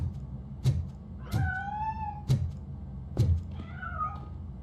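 A cat meows four times in the video game RoboCop Rogue City, each meow preceded by a sharp knock, over a steady low background rumble with no talk.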